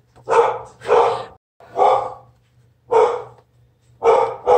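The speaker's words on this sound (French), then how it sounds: "Désolée pour le chien." A dog barking indoors, five loud, close, evenly spaced barks, each a drawn-out rough yowl separated by short silences.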